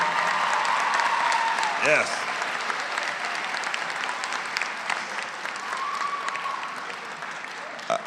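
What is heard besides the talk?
commencement audience applause for family and friends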